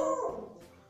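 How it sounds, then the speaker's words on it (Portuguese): Dog giving a single short whimpering bark up close, a brief whiny yelp that quickly trails off into a quiet room. "Meus cachorros tá dando cria aqui no meu vídeo"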